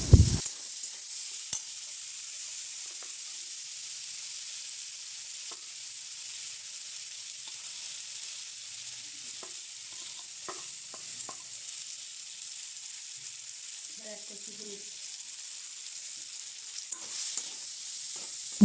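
Ground cumin, chili and turmeric frying and being stirred in a pan for a Bengali amra chutney, a steady hiss with faint scattered clicks and scrapes, quiet and continuous with no talk.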